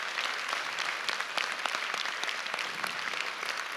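Audience applause at a talk, steady dense clapping from many hands throughout, moderately distant and even, with no voices over it.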